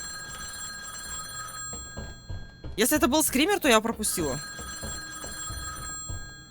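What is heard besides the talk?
telephone ringing in the video game Insomnia: Chapter One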